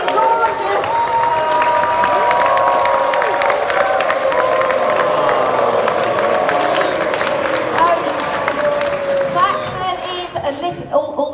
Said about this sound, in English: you can give him a cheer, he's gorgeous!